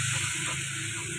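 Masala frying in a pan with a little water added while fish is cooked, giving a steady close sizzle and hiss with faint stirring, no talk.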